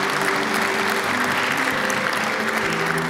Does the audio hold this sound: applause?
yes